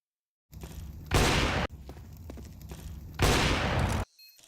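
Sniper rifle shots in a Counter-Strike esports match, two loud sharp blasts a couple of seconds apart over game background noise.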